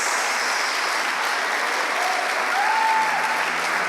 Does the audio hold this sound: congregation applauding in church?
yes